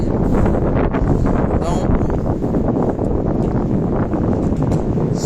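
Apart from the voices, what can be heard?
wind blowing outdoors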